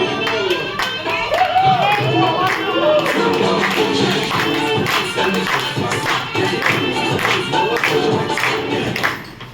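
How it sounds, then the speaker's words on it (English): Audience applause at a Toastmasters milestone meeting, a dense, steady wash of many hands clapping close by for nearly ten seconds, with a few voices cheering faintly within it before it tapers at the end. "Let's give a round of applause to all the proud present here."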